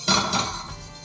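A whisk works flour into melted butter in a pan, giving a brief burst of close metallic clinks and scraping against the pan.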